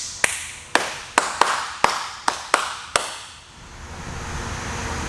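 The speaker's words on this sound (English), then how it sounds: "It was a clap." A run of eight sharp hand claps, unevenly spaced over about three seconds, then fading into quiet room tone outdoors near a garage.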